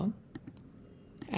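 A couple of quick, light computer mouse clicks on a desk, close and soft, falling between stretches of quiet speech.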